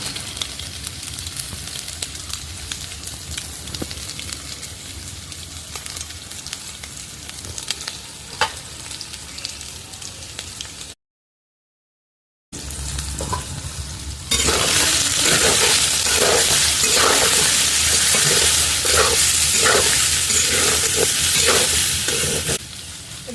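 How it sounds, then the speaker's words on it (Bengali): Soybean chunks fry in a pan with turmeric and salt, a close steady sizzle with repeated scraping stirs, growing louder and harsher after a brief gap. "বন্ধুরা দেখো এই সয়াবিনটা, এই দেখো কত সুন্দর ভাজা হয়ে গেছে।"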